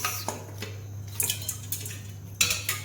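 One kilo of mutton goes into a handi cooking pot. The pieces land with several close, sharp clatters and knocks against the metal, spaced irregularly, with a louder clank near the end.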